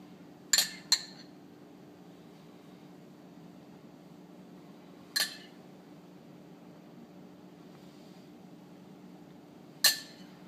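A spoon clinks against a plate while lemon butter sauce is ladled around cooked prawns: four sharp, separate taps spaced over a quiet room hum, close by and with no talk.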